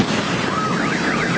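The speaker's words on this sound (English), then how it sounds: "Look at that, setting off car alarms there." Car alarms set off by a meteor's shock wave exploding over Russia: a steady, wavering electronic alarm tone rising and falling through a rushing, wind-like background noise, with no voices.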